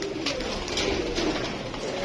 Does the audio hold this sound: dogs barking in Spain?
no